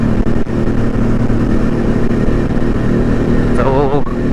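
A Kawasaki Z1 1000cc motorcycle engine drones steadily and loudly from close by for the whole stretch, its low rumble never letting up, with a short voice-like warble rising over it near the end.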